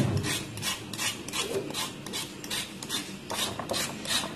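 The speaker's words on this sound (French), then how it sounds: "Donc vous grattez d'abord le dessus là." Dirt is scraped off the top of a leather hide in quick repeated rasping strokes, close and rhythmic, a coarse scratchy rubbing with no voices.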